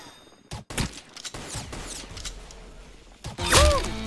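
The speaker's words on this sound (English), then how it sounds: "That's some beautiful shooting right there." Gunfire in the Roblox shooter game Rolve, sharp separate shots spaced through the stretch and a louder burst near the end, with game noise between them and no talk.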